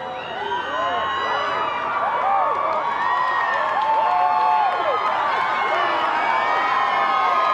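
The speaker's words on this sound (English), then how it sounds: "The crowd is going wild" A crowd cheering, whooping and shouting at a total solar eclipse in Erie, Pennsylvania, a steady outdoor roar with whistles and high cries throughout, close and loud.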